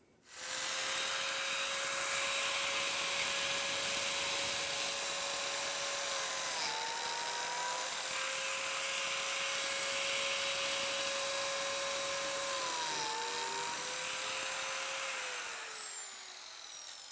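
A biscuit joiner cutting slots in wooden table legs clamped to a workbench gives a steady, loud high-pitched motor whine for about fifteen seconds, dipping briefly in pitch as it bites into the wood, then winding down.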